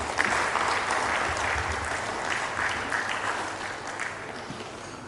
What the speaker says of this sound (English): that round of applause is for Dr. Ui-Resdev